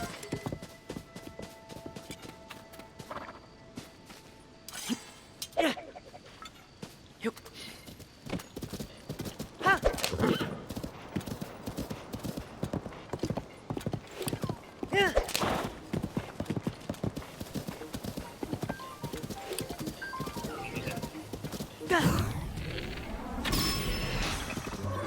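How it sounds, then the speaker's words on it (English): Horse hooves clip-clopping at a steady trot in the Zelda: Tears of the Kingdom video game, with occasional neighs and snorts, continuous and fairly close, no talking. "What's my horse doing?"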